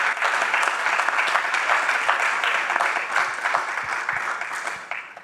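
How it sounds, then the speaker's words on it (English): A large audience at a gubernatorial candidates forum applauds steadily, a dense, continuous wash of clapping that holds its level for several seconds. "let's give a big round of applause to the candidates who are here tonight"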